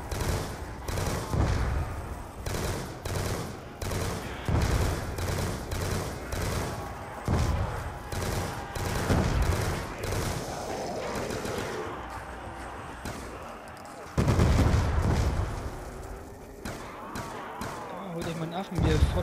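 Rapid gunfire from Call of Duty Black Ops 2 Zombies gameplay, with dense bursts of shots and impacts packed throughout, loud and continuous under players talking in German.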